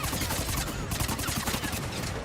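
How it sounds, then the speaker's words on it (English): Rapid submachine gun fire from the Mass Effect 3 video game, a dense, continuous stream of shots that rattles on steadily at close, loud level, with no speech over it. "I'm gonna try the SMG just so I can get an idea of what to expect. It's actually got a slower rate of fire"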